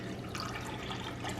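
Bleach pouring into a pot in a home kitchen, a steady, close liquid stream with a hollow splashing fill, continuous and unbroken, with no talk over it.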